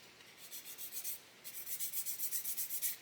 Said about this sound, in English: I'm just going to sand away some of that lug until it fits nice and flat.